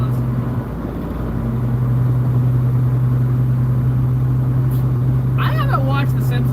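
A 1981 Ford Mustang cruising, its non-V8 engine giving a steady raspy drone from inside the car, with a person talking over it near the end.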